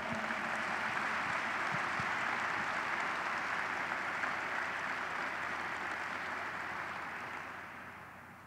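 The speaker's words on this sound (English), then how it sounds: "I'd like to offer a round of applause for TCCC number 14" A large audience applauds steadily at a military change of command ceremony at Scott Air Force Base, a dense sustained round of clapping that fades slightly toward the end.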